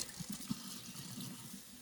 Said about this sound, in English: I just give it a rinse off because it's been sitting in all that mess.